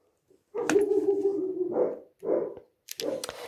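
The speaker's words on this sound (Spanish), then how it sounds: "Mis perros tenían que ladrar para variar." A dog barks and yelps in short bursts, one drawn-out bark followed by two quicker ones, fairly close with quiet gaps between.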